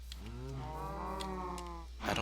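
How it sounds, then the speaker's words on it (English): A single drawn-out cow moo rings out from a farm in a blocky survival video game, a clear, moderately loud call over a low steady hum. "We've got the cow farm."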